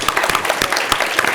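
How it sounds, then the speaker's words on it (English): Short burst of audience applause at a public talk, scattered claps with a few sharper hits, moderately loud and close with no speech over it. "applaud for that"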